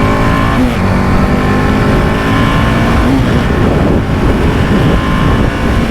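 TVS Apache 310RR sport motorcycle at speed on a race track, a loud continuous engine drone with wind rush and gentle pitch changes through a fast sweeping corner, heard close from the rider's position.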